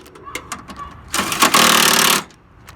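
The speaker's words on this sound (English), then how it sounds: "So we're gonna start tightening all the screws now." A power tool tightens screws on the front bumper reinforcement of a 2004 Nissan Maxima, a loud buzzing burst of about a second after some light taps and handling clatter, close by.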